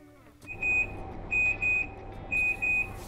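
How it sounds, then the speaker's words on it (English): A kitchen timer going off while lamb shanks slow-cook in the oven, sounding as sharp electronic beeps in two bursts, one pair and then a quick double, clear and close against a quiet kitchen. "Timer's gone off."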